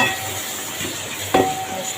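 Fenugreek leaves fry with ground coriander and cumin for a chicken dish, a steady sizzle broken by a couple of scraping stirs, one sharper clatter near the end.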